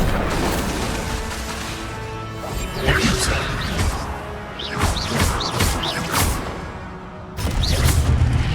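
The Incendio fire spell cast repeatedly in Hogwarts Legacy, loud whooshing bursts and crashing impacts in several rapid volleys, layered with game effects and no talk.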